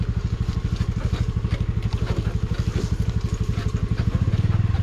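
A Honda Dio scooter rides off-road on a rough farm track, its small engine putting out a steady, rapid putter with some rattle, heard close and fairly quiet.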